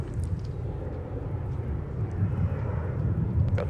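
Airliner climbing out from runway 30 at Minneapolis–St. Paul in strong wind, a steady low engine roar with gusty broadband rumble, holding even and slightly swelling over a few seconds.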